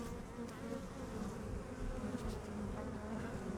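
Honey bees at a hive buzz in a dense, continuous hum, close and steady throughout with no voices.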